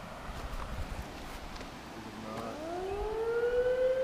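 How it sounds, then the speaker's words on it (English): A siren rises in pitch and swells louder over a few seconds, emerging from faint outdoor background noise. "And there's a siren."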